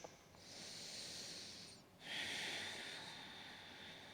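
Slow, quiet breathing during a yoga stretch, a long soft inhale followed by a longer airy exhale, close and faint with no talk.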